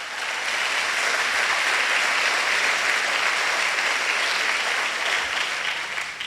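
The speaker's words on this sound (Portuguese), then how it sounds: "Você aplaudiu por causa da bênção?" A church congregation applauds steadily, dense clapping filling the room at an even, loud level for several seconds before tapering slightly at the end, with no voices over it.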